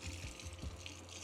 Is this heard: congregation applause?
no